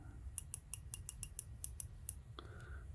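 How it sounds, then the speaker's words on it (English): The unidirectional 120-click bezel on a Corgeut Seamaster 300 wristwatch being turned. About ten crisp, evenly spaced ratcheting clicks ring out close up over a faint hum, followed by a single softer tick, with no talking. "let's talk about the bezel on this. So it is a 120 click unidirectional."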